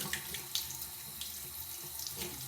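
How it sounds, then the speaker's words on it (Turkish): A paintbrush used for watercolour is rinsed in water, a steady splashing wash like running water with a few brief louder swishes, close and soft, with no talking. "Şimdi de fırçamızı küçükten yıkayalım."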